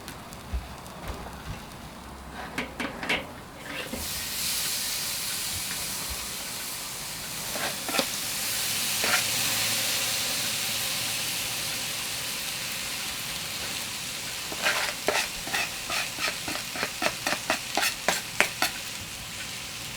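Two beef ribs sizzle on a wood fire, giving a loud, steady crackling hiss close at hand, with bursts of sharp clicks and pops at the start and again near the end.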